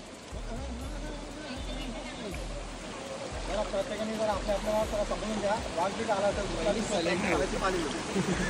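A waterfall in the Konkan countryside sends up a steady, broad rushing roar that stays constant throughout, with people talking and calling out loudly over it.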